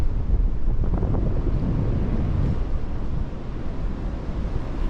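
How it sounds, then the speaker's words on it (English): Strong mountain wind gusts of up to 50 mph on an Appalachian Trail hike, roaring and buffeting the microphone in a loud, continuous rumble that eases slightly toward the end; no talking. "Really blowing today."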